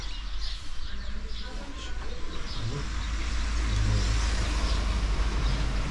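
Cars passing on a nearby road after rain, a steady low traffic rumble that swells slightly, with faint bird calls and distant voices over it.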